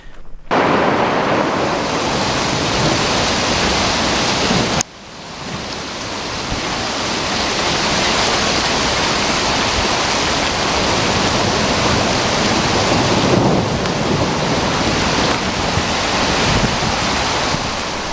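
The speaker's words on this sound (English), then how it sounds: "Yeah, that's hail" Hail falling on a mountain peak during a storm, a dense, steady broadband roar of pelting ice like heavy rain, loud and close throughout with a brief dip partway through before building again.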